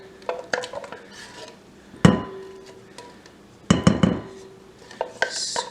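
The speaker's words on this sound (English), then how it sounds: "scrape out the entire can, get all the juice" Cherry pie filling is scraped out of a can by hand with a utensil, giving sporadic metallic clinks and scrapes against the tin, with a few sharper knocks spread over several seconds and no talking.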